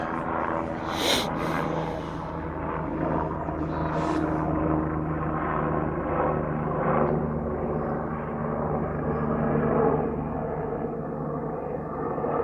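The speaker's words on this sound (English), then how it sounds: "Oh, it's the helicopter." A helicopter flies overhead on a hike, its rotor and engine drone holding steady and fairly loud for the whole span, with a couple of brief sharp sounds near the start and no talking.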